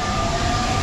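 A Paris Metro subway train runs near Bir-Hakeim station with a loud, steady rumble and a sustained tonal whine from the car, heard close up from inside with no talking.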